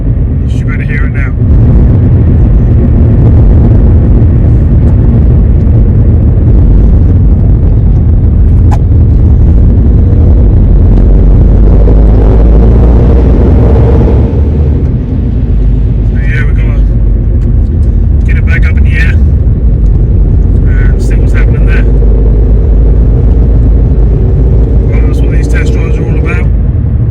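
A worn near-side front wheel bearing on a 2005 Vauxhall Meriva A, heard from inside while driving as a loud, continuous low rumbling drone, with brief bits of talk over it.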